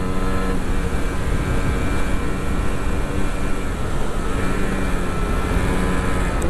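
Continuous engine and road noise from a motorcycle touring on a winding mountain road along a ravine in North Kolaka, steady and loud throughout with no talking.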